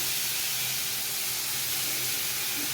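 Green chili paste sizzles in hot oil, a steady broadband hiss with a faint low rumble running evenly throughout, no voices.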